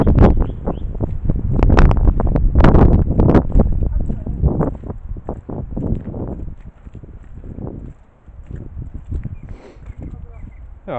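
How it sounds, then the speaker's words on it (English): Strong, continuous wind buffeting the microphone in a wooded glen, loud and rumbling with gusts that ease off slightly toward the end, with some rustling and a voice faintly underneath. "To be honest, we'll probably just hear wind."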